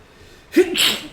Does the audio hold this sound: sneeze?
yes